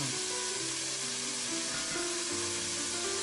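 Gochugaru and Cheongyang chili powder stir-fried in oil for yukgaejang, a continuous close, soft sizzle with faint scraping of stirring running underneath, no voices.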